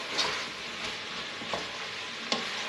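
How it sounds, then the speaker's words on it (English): Vegetables for Scotch broth simmering and being stirred in a pot, a gentle hiss with a few soft scrapes of the spoon. "So I'm actually going to let that simmer away and just keep stirring it for a few minutes."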